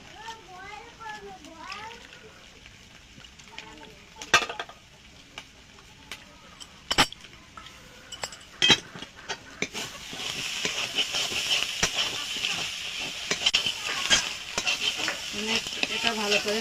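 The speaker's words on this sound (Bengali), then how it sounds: "গুঁড়োটা গুলিয়ে নেব।" Atap rice flour is mixed into water and stirred in a bowl, with soft scraping and sharp clinks early on, then a steadier hissing wash of sound over the last several seconds, and children's voices faint in the background.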